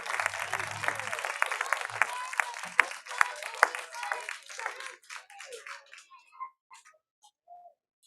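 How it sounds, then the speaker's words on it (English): An audience at a Shabbat service applauds the fifth graders: dense clapping that builds briefly, then thins to a few scattered claps and fades out, with some talk mixed in. "Huge round of applause for them,"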